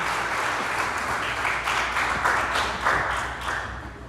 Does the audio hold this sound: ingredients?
no